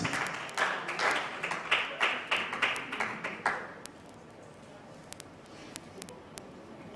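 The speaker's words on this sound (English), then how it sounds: "Ladies and gentlemen, round of applause for that." Audience applause at an innovation and entrepreneurship conference, a burst of clapping for about four seconds that fades out, followed by a quiet room with a few scattered taps and claps.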